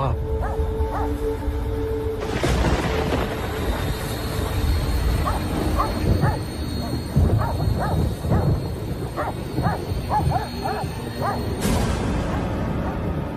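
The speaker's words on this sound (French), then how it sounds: "son chien s'est mis à aboyer" A dog yips and barks in short bursts, fairly close, mixed with whimpering, over a constant rumbling background noise.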